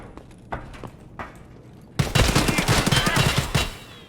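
Burst of automatic gunfire in the video game Escape from Tarkov, a loud sustained rattle of shots after a couple of softer distant cracks, with no talking.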